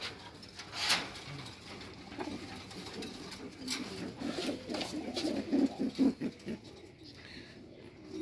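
Pigeons kept for sale in a loft coo in soft, low, throaty rolls, several overlapping and repeating near at hand, with light rustling and flutter around them and no talk over the calls.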